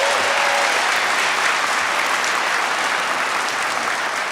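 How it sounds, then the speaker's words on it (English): Loud, sustained applause from a large audience at a restaurant and chef awards ceremony, a dense even roar of clapping filling the whole stretch without pause. "Please give them a round of applause."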